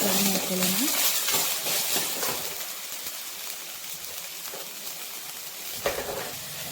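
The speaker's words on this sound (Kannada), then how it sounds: "ಎಣ್ಣೆ ಕಾದಿದ ನಂತರ ಈರುಳ್ಳಿ ಹಾಕ್ಕೊಂಡು ಸ್ವಲ್ಪ ಮೊಸರು ಮಾಡ್ಕೊಳ್ತೀನಿ" Onions frying in hot oil with mustard and cumin seeds in a pan give a steady, dense sizzle that eases slightly over time, with a brief clink near the end.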